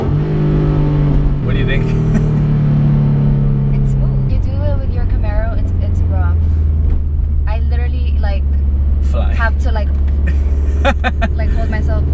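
A 2013 Scion FR-S accelerating hard from inside the cabin, engine droning loud and steady with a drop in pitch at a shift, while people talk over it.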